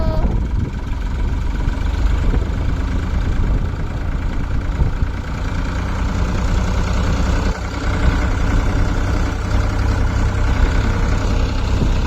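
A tractor engine runs loud and steady close by while its trolley is stuck, a continuous throbbing drone that barely changes across the whole stretch.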